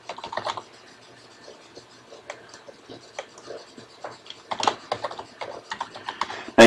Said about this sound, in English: why are you typing them again?